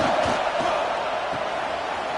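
A football stadium crowd roars in a sustained, broad wash of noise that swells steadily and stays loud and dense throughout, with no single voice standing out.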